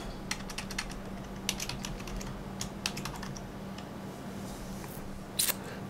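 Password being typed on a computer keyboard: a quick series of crisp key clicks in a few bursts, close and clear against a faint steady hum, ending with one louder double tap.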